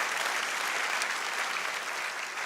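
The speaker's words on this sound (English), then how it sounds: "give yourself a good round of applause" Audience applause fills an academic year opening ceremony, a dense, steady wash of clapping from a large crowd, sustained and fairly loud without a break.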